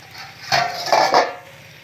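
A lid is lifted off a pan of semolina milk chitoi pitha on a low-medium gas flame, giving a few short metallic clinks and scrapes close by, with a quiet background between them.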